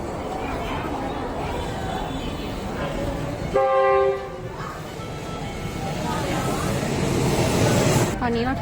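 Ayutthaya railway station ambience with a train rumbling nearby, a brief horn-like tone sounding midway, and voices chattering throughout.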